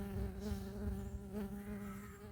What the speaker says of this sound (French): j'ai une guêpe qui m'embête